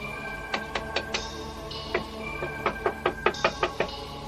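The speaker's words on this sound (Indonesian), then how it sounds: "Adi Wulan, kau ketuklah pintu itu." Knocking on a wooden door in an Indonesian audio drama, two bursts of sharp, hollow raps: a quick group of four, a pause, then a longer steady series of about nine knocks, close and clear.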